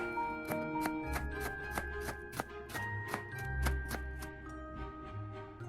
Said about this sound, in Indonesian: Selanjutnya kita iris-iris bawang bombaynya.